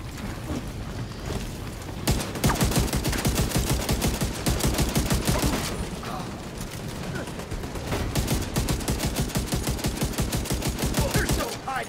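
Sustained volleys of gunfire in The Division 2, including sniper rifle shots, crackle loud and dense across the stretch, with a short lull before the firing resumes and a voice talking underneath.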